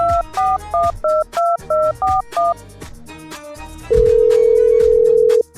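A telephone is dialed: eight quick dual-tone beeps in a rapid, even sequence, then a longer steady tone from the line, with no speech.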